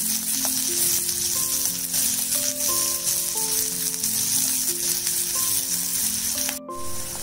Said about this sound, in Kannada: ಒಂದು ದೊಡ್ಡದು ಈರುಳ್ಳಿ ಚಾಪ್ ಮಾಡ್ಕೊಂಡಿದ್ದೀನಿ, ಹಾಕೋಬೇಕು. ಫ್ರೈ ಮಾಡ್ಕೋಬೇಕು ಕೆಂಪಗೆ.